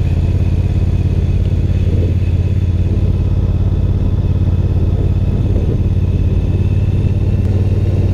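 A Triumph Bonneville Speedmaster's twin-cylinder engine thrums with a steady, low, throbbing exhaust note, loud and close, running continuously without speech.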